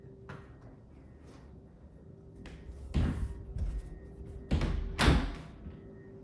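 Double closet doors in a house open with faint rattles and taps, then several louder knocks and bumps as the doors swing and settle.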